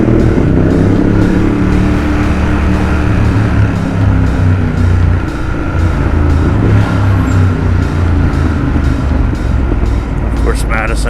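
Heavy city street traffic on Madison Avenue in Manhattan heard from a moving LiveWire electric motorcycle: a loud, constant rumble and wind roar with vehicles all around, and the rider talking over it.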